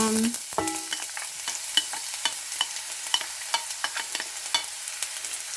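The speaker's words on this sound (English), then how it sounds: "Once the oil is hot, I'll introduce my onion." An onion hits hot vegetable oil and sizzles steadily while it is stirred, with crackling frying noise and occasional scraping close by throughout, as a base for African salad with fish.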